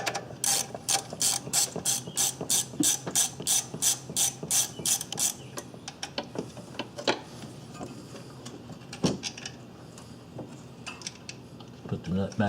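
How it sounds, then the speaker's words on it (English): Socket ratchet loosening a 10mm nut on the back of a Ford Ranger alternator: a fast run of close, crisp pawl clicks for about five seconds, then scattered metallic clinks and small handling knocks. "Alright, now we're going to be taking this here nut, 10mm. Socket will take care of that."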